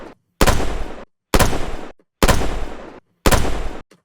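A designed, punchy gunshot sound effect fired four times at an even spacing, each blast loud, full-bodied and sharp on the attack, then decaying over about half a second into silence.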